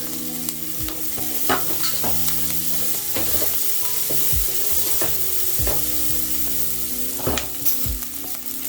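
Onions and garlic sauté in a pan for butter chicken, with a steady sizzle broken by repeated scraping strokes of a spoon stirring across the bottom of the pan; no voices.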